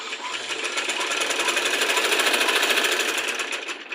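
A sewing machine stitches a side joint on a small child's garment, a rapid, even mechanical chatter running close and loud for several seconds before easing off.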